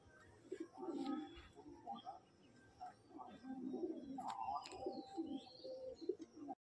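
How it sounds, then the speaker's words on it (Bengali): Pigeons coo softly and repeatedly at moderate distance, with scattered chirps and bird calls mixed in over faint background noise. "এখনো পায়রা উঠছে।"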